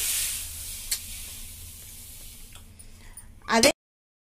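Sesame seeds roast in a kadai with a fading hiss and faint crackling, followed by a brief louder scrape or rattle just before the sound cuts off.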